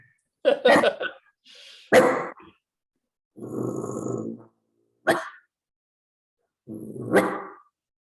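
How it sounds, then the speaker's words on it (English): A small puppy gives several separate yaps and whimpering barks, close and loud, spaced with pauses between them during an online group call with no other talk at that moment. "Oh, looky there, a puppy."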